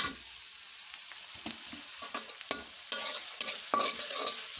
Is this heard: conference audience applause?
no